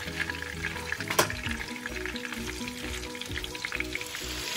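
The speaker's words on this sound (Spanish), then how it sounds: "nada más que se fría bien el chile." Chili, garlic and onion fry in hot oil with a steady, dense sizzle and crackle. Scattered pops and a brief stirring scrape sound close by, with no talking.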